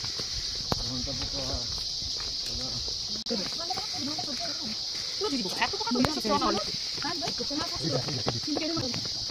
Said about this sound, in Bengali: দেখো ঝিঝি পোকার ডাক